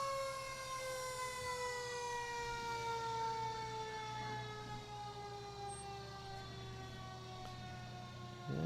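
Wailing fire engine siren from a Mountain Fire Department pumper truck in a Christmas parade, rising and falling steadily and loud throughout, with a low engine rumble beneath.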